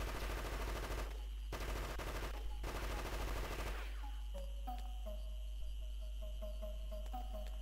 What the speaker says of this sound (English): I'm going to stick with the assault rifle.